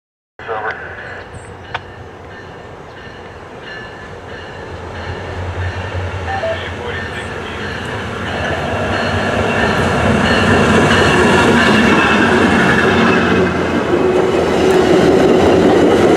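MARC passenger train with GP39PH-2, MP36PH-3C and SC44 locomotives passing at St Denis, Maryland, a steady rail rumble that swells louder and closer over the final seconds, with faint wheel clatter throughout.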